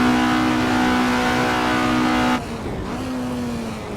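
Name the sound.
race car engine in video game Assetto Corsa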